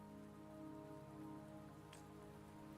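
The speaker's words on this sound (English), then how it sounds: "Don't worry, the rain won't last much longer." In-game rain from Wuthering Waves, a dense steady downpour hiss with no talk, a single brief sharper sound cutting through near the end.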